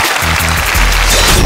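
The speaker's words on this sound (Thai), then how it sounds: "ขอเสียงปรบมือให้กับน้องตุ๊กตาครับ" Studio audience applause on the Thai game show Killer Karaoke Thailand, a dense, steady wash of clapping running throughout with low musical tones beneath it.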